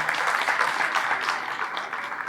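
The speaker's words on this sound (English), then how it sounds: "A round of applause for her." Audience applause at a conference welcoming a state first lady, a sustained, fairly loud spatter of many hands clapping with slight swells, no speech over it.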